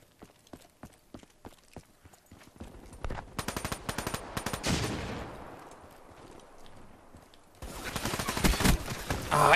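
Rapid bursts of gunfire in Call of Duty: Black Ops 3 multiplayer crack out in quick rhythmic strings, then a pause with lingering noise, then another loud sustained volley near the end.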